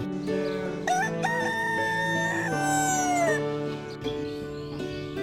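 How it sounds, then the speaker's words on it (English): A rooster crows nearby in a long, strident cock-a-doodle-doo, with a second bird or call overlapping, loud and clear with no speech. "Fantastic rooster."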